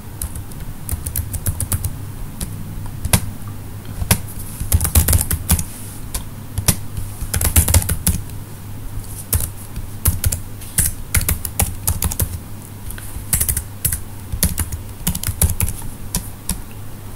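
Brisk keystrokes on a computer keyboard as a username and password are entered, a loud, close run of clicky taps in uneven bursts with short pauses between, no talking.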